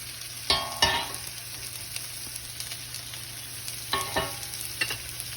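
Vegetables for a hotel-style veg kurma sizzle steadily in a pan, with two clear bursts of stirring scrapes and clatter against the pan over a constant low hum.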